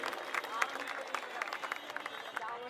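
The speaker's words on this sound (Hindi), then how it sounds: "जोड़ो तालियां" Scattered audience clapping at a public event, a loose patter of claps under murmuring voices, moderately quiet and uneven.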